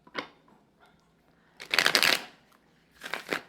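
A deck of tarot cards shuffled by hand, with a brief riffle near the start, then two loud crackling bursts of cards fanning and snapping together, close and alone without talk.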